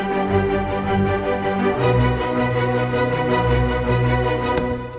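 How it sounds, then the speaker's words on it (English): A four-measure strings loop, dry without the Finisher Boost plugin, plays sustained layered chords with slow changes in the low notes, loud and continuous with no talking. "So we've got a strings loop that sounds like this without boost."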